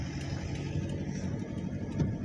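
A manual-transmission car pulling away as a learner driver eases off the clutch and adds throttle, the engine humming steadily at low revs close by, with no one talking.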